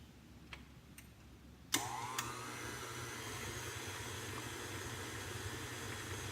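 An electric hand mixer starts up and runs steadily, whirring through cheesecake batter in a bowl, a continuous close motor hum with a sharp start.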